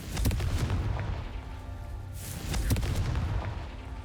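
Confringo blasting curses exploding in Hogwarts Legacy, a few sharp booming blasts at moderate distance with rumbling tails, fairly quiet, no talk.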